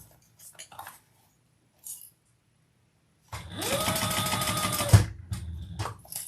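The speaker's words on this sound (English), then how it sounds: "this is actually a fairly quick sew" A sewing machine stitches a bag in a steady, fast mechanical whir for about two seconds, close and clear, between a few light handling taps and clicks in an otherwise quiet room.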